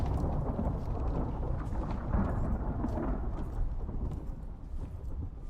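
Stormy ambience from the video game Heroes of Hammerwatch II, a steady loud wash of rain with low thunder rumbling throughout, continuous and dense with no clear breaks.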